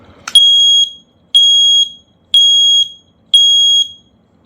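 A Tuya Wi-Fi smoke and carbon monoxide detector sounding its alarm: four loud, piercing, evenly spaced beeps, each about half a second long, after a brief click, close and alone with no talk.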